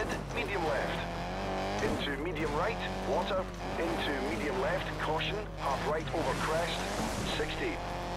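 A rally car in Colin McRae Dirt 2 drives onto a gravel track, its engine revving and shifting pitch continuously with brief tire noise, while a voice talks over it throughout.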